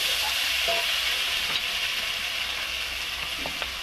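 Spice paste frying in hot oil for a fish and potato curry, a steady loud sizzle close up with a few faint scraping stir strokes breaking through.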